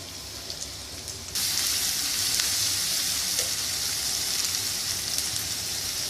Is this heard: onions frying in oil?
yes